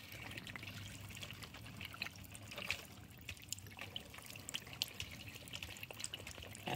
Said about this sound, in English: there's water coming out of all three of these